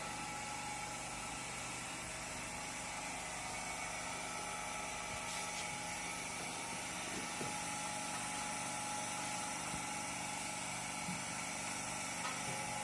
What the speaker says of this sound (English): Now again we are increasing the load on 3-phase induction motor.